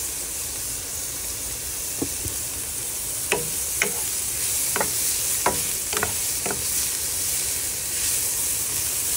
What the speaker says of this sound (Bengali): আর কিছুটা হলুদ, এই দিয়ে ভালো করে নাড়াচাড়া করতে হবে।